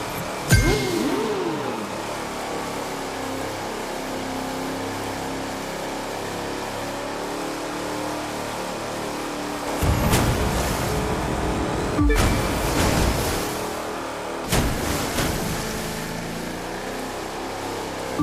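Race cars in The Crew 2 video game roar at a steady, close engine drone, with sharper bursts of revving acceleration near the end.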